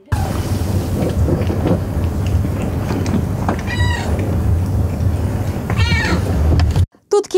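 Several cats in a crowded cat café let out two distinct meows over a constant rumbling background. The room falls silent near the end.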